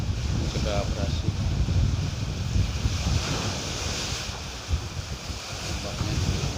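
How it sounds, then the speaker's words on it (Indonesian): Ocean waves wash against a rock-armored seashore beside a seaside mosque, a continuous rumbling surf mixed with gusty wind noise on the microphone, with faint voices in the background. "Ombaknya."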